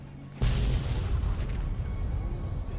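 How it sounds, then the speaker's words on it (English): The Silver Rush building explodes in Fallout New Vegas, a sudden loud boom followed by a sustained low rumble of destruction. "With the explosion and destruction of the Silver Rush, we fail the quest Birds of a Feather"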